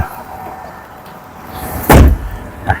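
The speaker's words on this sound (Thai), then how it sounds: "เดี๋ยวสักครู่นะปิดประตูก่อน" A car door slams shut on a 2002 Honda City Type Z 1.5 EXi automatic: one sharp, close thud after a quiet stretch, followed by a small faint knock.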